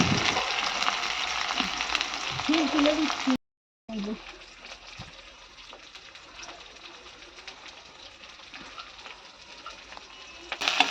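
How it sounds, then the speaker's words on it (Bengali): Onions frying in oil with bay leaf and dried red chili, crackling and sizzling loudly at first, then quieter after a brief cut, with faint voices in the background. "আর এদিকে তেলের মধ্যে দিয়ে দিয়েছিলাম তেজপাতা, শুকনো লঙ্কা, তারপর পেঁয়াজগুলো দিয়ে দিলাম"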